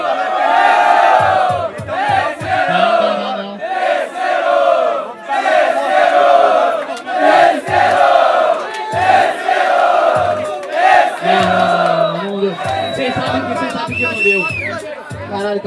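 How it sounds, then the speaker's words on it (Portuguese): A loud crowd at a street rap battle in São Gonçalo, Brazil, cheers, chants and shouts rhythmically for a freestyle MC, with an amplified host voice calling over the noise. "Barulho que preferiu a rima do freestyle do MC, Lili!"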